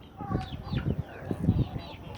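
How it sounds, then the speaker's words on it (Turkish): A crested breeding rooster clucks and murmurs close by in a busy farmyard, with other fowl calling faintly behind it. "Yani damızlık horozumuz biri bu."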